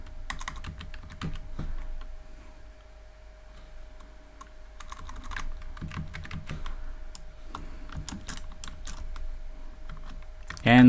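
Keys clatter on a computer keyboard while Python code for a quiz app is typed, a steady run of soft, irregular clicks with short pauses, close and moderately quiet throughout.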